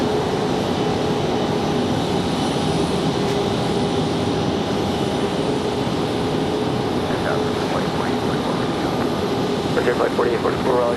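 A Boeing 737-700 jet roars steadily at Raleigh-Durham International Airport, a loud continuous engine rumble heard from nearby.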